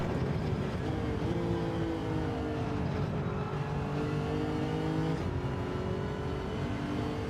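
Race car engine in Gran Turismo 7 droning steadily, with pitch rising through the revs and dropping at gear changes, repeated in cycles under constant road noise and with no talk.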